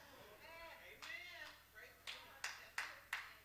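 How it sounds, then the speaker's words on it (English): A single person in a church congregation claps a handful of sharp, evenly spaced claps, close and fairly loud, following a stretch of a man preaching. "I'm glad we have one sister that clapped for that."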